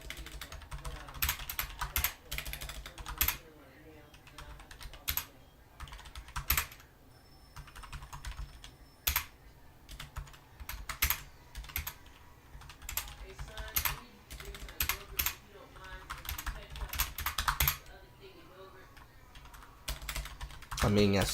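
Typing on a computer keyboard comes in quick, irregular bursts of sharp key clicks separated by short pauses, fairly close and otherwise quiet.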